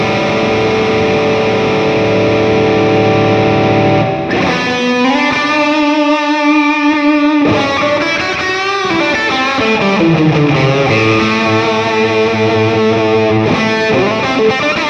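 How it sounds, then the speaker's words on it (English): Distorted electric guitar played through a Two Notes Torpedo C.A.B. speaker simulator with cathedral reverb, ringing chords and sustained notes with long washy tails, loud and continuous, shifting into sliding pitches midway. "Then we've got reverb, which is on. I can turn it off, we'll leave it on. And then you've got the type of reverb, which I've chosen to be cathedral."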